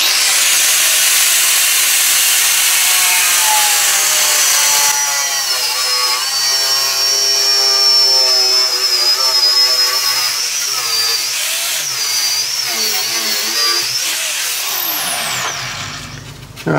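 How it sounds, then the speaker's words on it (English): An ordinary metal cutoff disc slices through a carbon fibre sheet, a loud, sustained hissing whine with a wavering pitch that runs for about fifteen seconds before the cutting stops and the disc spins down. "it turns out you can cut carbon fibre with an ordinary metal cutoff disc"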